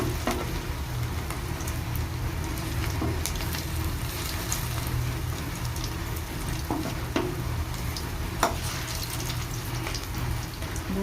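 Cabbage fritters frying in oil in a pan: a continuous, even sizzle and crackle throughout, close and fairly loud, with occasional small pops.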